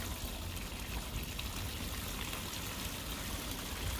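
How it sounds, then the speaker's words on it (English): Water running steadily from an outdoor shower on a 2018 Mercedes Sprinter 144 crew van, a continuous hissing, splashing spray at low level with no talking. "now we have outside shower or wash off or whatever"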